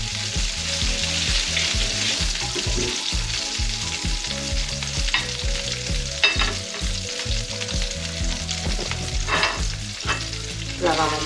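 Fish rice ingredients, including bell pepper strips with a pinch of salt, sizzle and fry in a pan while being stirred, giving a steady loud crackle with repeated scraping and clinking strokes throughout.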